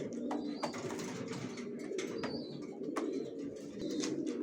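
Racer pigeons coo in soft, repeated low calls, with faint chirps and brief clicks over a steady murmuring flock background, fairly close and continuous.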